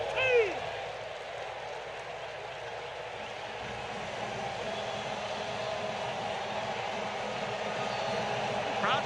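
Crowd at a Braves baseball game in a stadium, a steady wide roar of cheering and noise that stays constant and distant-sounding, with a brief whistle-like shout near the start.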